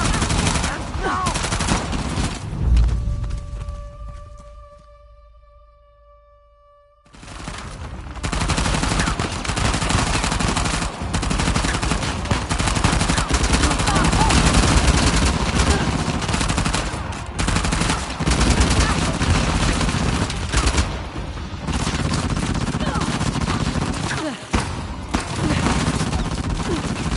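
Sustained heavy gunfire in a shootout in the video game Uncharted: The Lost Legacy: dense, continuous bursts of automatic fire, loud and close. A brief near-silent lull with a faint tone comes before the shooting resumes and runs unbroken to the end.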